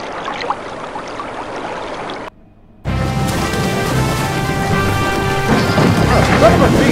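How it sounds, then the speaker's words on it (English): Severe thunderstorm from the Oregon Trail game: steady heavy rain with rumbling thunder, a short near-silent gap, then a louder, denser downpour with rolling thunder and faint speech-like murmur underneath. "If that severe thunderstorm event pops up again"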